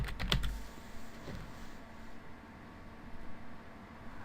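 A computer keyboard being typed on, with a short burst of close, crisp key clicks at the start and a few scattered taps later over faint background hiss, no speech.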